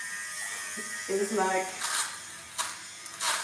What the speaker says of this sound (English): It collects the fuzzy weird parts on clothes.